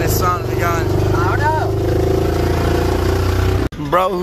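A car engine with a damaged exhaust drones loudly and roughly at close range, holding a steady buzzing tone, while people talk over it and a brief cut interrupts near the end.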